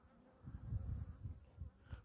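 Honey bees buzz at a hive in cool weather around ten degrees, with a low, pulsing drone that swells and fades in soft waves, close but quiet.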